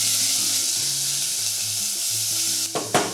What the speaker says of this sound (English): put some oil in there, and then you're gonna throw about tablespoon of garlic. This is gonna go quick. Saute it around.